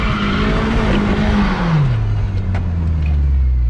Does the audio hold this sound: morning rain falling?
no